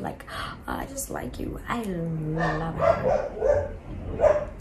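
Dogs bark and yip in the background during a woman's speech, several short barks scattered under her voice at a moderate distance.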